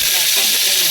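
Onion and green chili sizzling in hot oil in a pan, a steady close hiss of frying filling the moment without a break.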